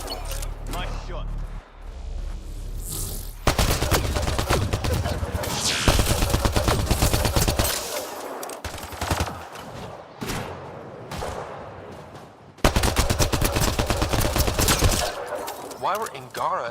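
Rapid bursts of gunfire crackle in Mass Effect: Andromeda, loud clattering volleys broken by brief pauses, with voices speaking in between.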